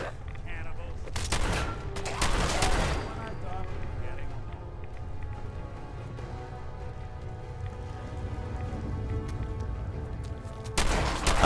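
Bursts of rapid gunfire from the video game Fallout 4, loud for a couple of seconds near the start and again at the end, with a quieter ambient stretch in between.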